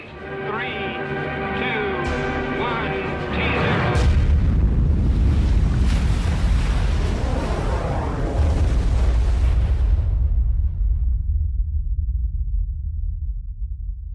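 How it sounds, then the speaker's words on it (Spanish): A thermonuclear bomb test explosion of about ten megatons, heard as a massive, sustained rumbling boom that swells after a few seconds and rolls on heavily for over ten seconds, dominated by deep low roar. "La potencia de la explosión es similar a la de 10 millones de toneladas de TNT."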